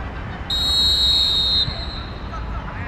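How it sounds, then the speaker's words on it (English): At kickoff of a school youth football match, a referee blows one sharp, steady whistle blast lasting about a second over faint crowd and field ambience. "There goes the blast of whistle."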